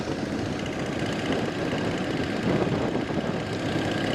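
A Harley motorcycle engine drones steadily while riding on Jupiter Island, a constant broadband roar mixed with rushing wind that holds at an even, moderate level throughout, with no voices.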